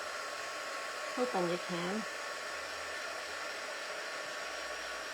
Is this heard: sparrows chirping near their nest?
no